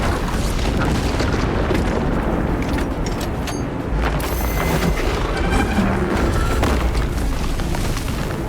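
A melta bomb detonates in a Warhammer 40,000 video game, a loud sustained booming blast with rumbling low roar throughout, a second surge of the explosion swelling midway and continuing to the end.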